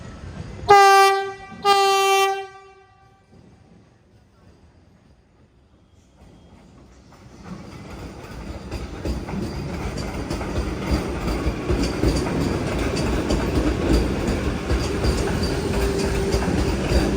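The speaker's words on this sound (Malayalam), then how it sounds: "ഇപ്പൊ ഒരു വണ്ടി വരും, ബിലാസ്പൂർ നാഗ്പൂർ വന്ദേ ഭാരത്." Bilaspur–Nagpur Vande Bharat express pulling into a platform at Raipur station: two loud horn blasts, a brief lull, then a steadily building rumble and clatter of the train arriving close by.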